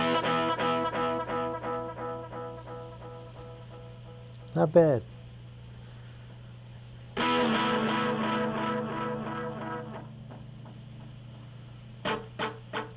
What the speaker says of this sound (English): here's the basic sound with the echo turned on